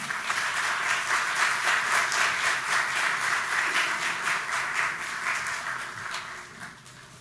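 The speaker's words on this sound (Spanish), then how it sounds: "Un aplauso" Audience applause at the opening of a conference, a broad crowd clapping with some distinct claps standing out, steady at first then thinning and fading toward the end.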